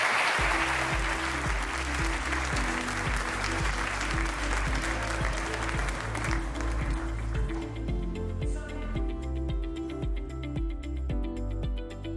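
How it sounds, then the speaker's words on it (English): Applause fills the hall at the St. Gallen Symposium, a dense, even clapping over a strong rhythmic music bed that continues and takes over as the clapping thins out. "Please give them another warm round of applause."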